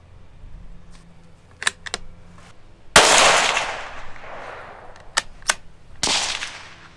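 A Ruger Precision Rimfire .22 Magnum rifle fires two sharp, loud outdoor shots about three seconds apart, each ringing briefly, with metallic clicks and clacks of single loading the action in between.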